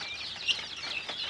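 Local chickens and guinea fowl chicks kept in a cage cluck and peep in a steady, moderately faint chatter with a brief sharper call partway through.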